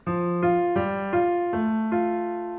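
A keyboard plays a Handel melody over an Alberti bass accompaniment, with clear, evenly spaced struck notes in a steady rhythm, each decaying gently, heard up close with no talking.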